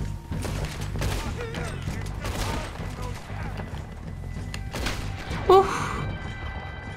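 Gunfire in the Red Dead Redemption 2 video game during a snowstorm mission, a dense run of shots and impacts over a steady background score, with one sharper louder burst near the end.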